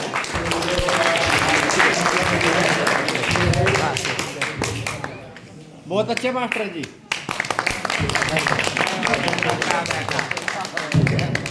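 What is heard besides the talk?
loud applause at a religious gathering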